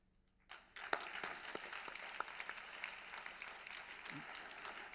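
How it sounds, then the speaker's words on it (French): An audience applauds at an awards ceremony, with clapping rising suddenly after a brief quiet and continuing steadily at moderate distance, a few sharper individual claps standing out. "Il vous reste encore des forces pour applaudir,"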